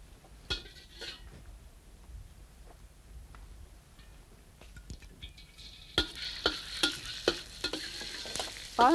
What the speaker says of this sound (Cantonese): 將我哋啲乾葱蓉爆一爆香。